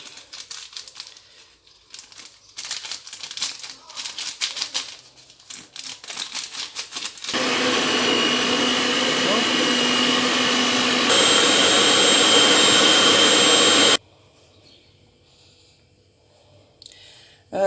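An electric mixer whirs loudly and steadily through chocolate cake batter, a sustained motor drone that shifts pitch midway, preceded by crinkling and handling sounds and followed by quiet.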